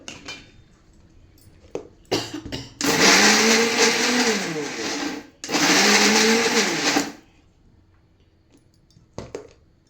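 A mixer grinder whirs loudly in two long bursts, grinding red chillies for pickle, with short clicks and rattles of the jar before, between and after the runs.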